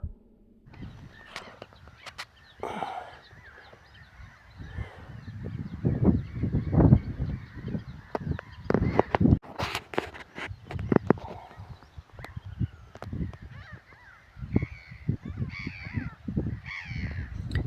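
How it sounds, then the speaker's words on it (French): Many harsh cawing bird calls, overlapping and irregular, some near and loud, others fainter, filling a busy outdoor scene in Spain with no talking. "vous entendez tous les cris, les petits cris d'oiseaux"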